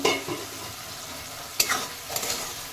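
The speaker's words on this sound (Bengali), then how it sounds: "শাক ভাজাটা কিন্তু অনেকটা হয়ে গেছে।" Spinach with prawns frying in an uncovered pan gives a soft continuous sizzle, with a few sharper stirring scrapes near the end and no voices.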